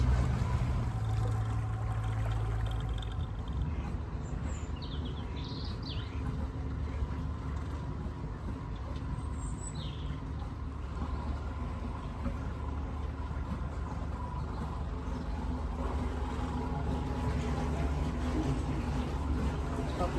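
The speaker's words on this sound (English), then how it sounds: "Sound of the generator." A steady low engine drone runs throughout, a generator on a canal boat humming continuously with faint water and outdoor sounds around it.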